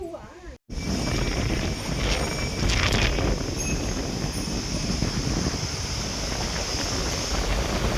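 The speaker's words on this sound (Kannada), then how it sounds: "ಏನು ಇಷ್ಟೊಂದು ಗಾಳಿ?" Strong wind on Udarahalli hill near Channapatna roars steadily and loudly across the mic, buffeting it in broad gusts after a brief dropout at the start, with faint voices beneath.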